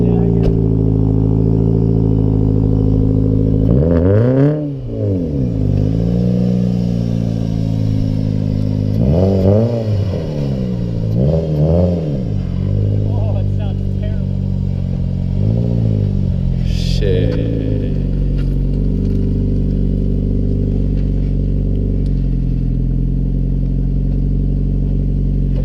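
A damaged Ford Focus engine running roughly, its rough idle rising in several revs with a clattering note, loud and close, while people talk over it.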